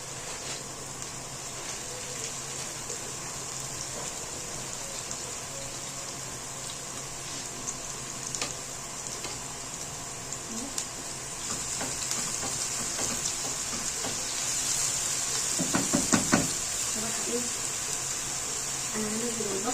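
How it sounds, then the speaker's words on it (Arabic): Onions sizzle in ghee in a frying pan, a steady, soft hiss that grows a little livelier partway through, with a few stirring clatters near the end. "حطيت هنا سمنه وهنزل بقى عليها البصل كده"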